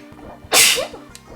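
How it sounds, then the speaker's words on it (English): One sharp, loud sneeze erupts mid-clip from someone nearby at a live game night, with faint background tones around it. "I don't know why I'm sneezing so much."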